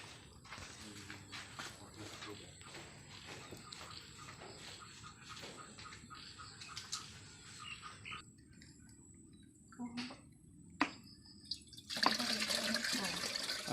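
Water running into a 16-litre bucket or sprayer tank at a durian orchard, a steady outdoor splashing stream with birds chirping around it and someone speaking at times.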